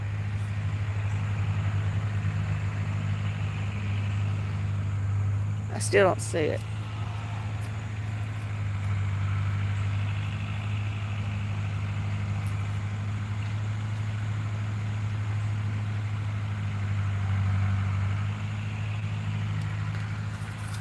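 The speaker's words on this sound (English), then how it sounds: "Let's see if I can actually see the tractor." A tractor engine drones steadily at a distance on an outdoor nature trail, a low continuous rumble that holds fairly even throughout while a person talks briefly over it.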